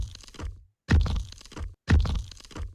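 Audio run through a sidechain compressor so it ducks: a dense, bassy sound swells in, cuts to near silence, then returns in repeating pumping chunks roughly once a second, with no talking.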